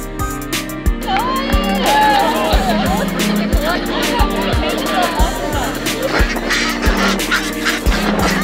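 Ducks quacking at a pond in a mountain setting in Japan, short quacks scattered under loud nearby chatter and people talking, with occasional thumps of footsteps on a bridge.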